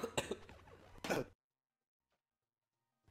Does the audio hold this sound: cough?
yes